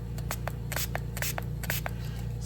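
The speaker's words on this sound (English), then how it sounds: "spray soap" Short sharp bursts of spray soap hiss into a resin mold in quick irregular succession over a steady low background hum.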